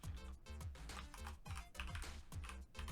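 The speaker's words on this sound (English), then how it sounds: "We can try and get my keyboard to work." A computer keyboard is typed on in quick, close bursts of clicks, the keystrokes running densely across the whole short stretch with no talking.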